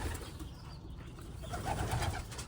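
Soft, low cooing comes from white homing pigeons inside a loft, faint and close, with no talk.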